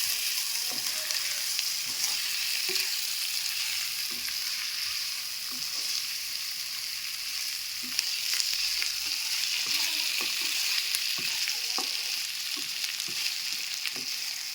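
Chicken pieces frying in hot oil for a chicken curry, a steady close sizzle with scattered crackles and occasional stirring clinks, no voices over it.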